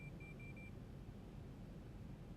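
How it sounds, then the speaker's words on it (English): The localizer alert in a Boeing 737 cockpit in the X-Plane 11 flight simulator, four short, evenly spaced high beeps early on over a steady low cockpit hum, then only the hum. "So that's the localizer beeping now"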